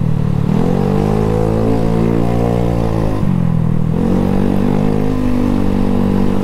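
A Honda Scoopy scooter ridden on a Sunday morning group ride, its engine droning steadily up close and rising in pitch as it accelerates, dipping briefly when the throttle eases, then climbing again, with no talk over it.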